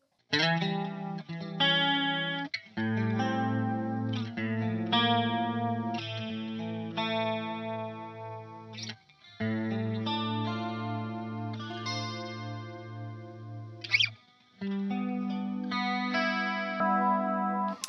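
Electric guitar played through a Pogolab chorus pedal, a Boss CE-2 style clone, with the bridge pickup split to single coil, ringing out bright shimmering chords and notes in two long phrases broken by short pauses.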